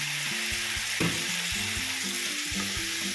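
Marinated chicken fries in a pan for chicken biryani with a dense, even sizzle under steady background music.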